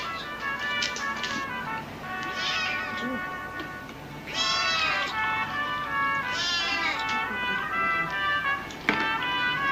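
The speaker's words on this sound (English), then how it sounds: "tell him to get that dirty cat out of here" A cat meows repeatedly inside an eating place, with several drawn-out, wavering cries spread across the stretch over a quiet room background.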